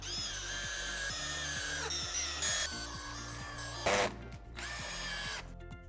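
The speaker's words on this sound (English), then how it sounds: "Then proceed to fix screws in all of the openings around the window fin." Power drill driving screws through a window nailing fin, whining at speed with repeated bursts and pitch drops as each screw seats, loud and close.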